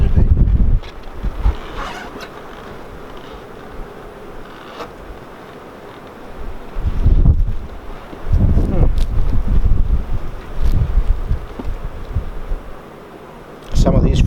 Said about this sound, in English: On this side to block the wind a little bit.